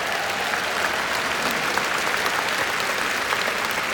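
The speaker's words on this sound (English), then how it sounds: "That's worthy of a round of applause." A convention audience gives a sustained round of applause, a dense, even wash of many hands clapping that continues steadily from start to finish without pause.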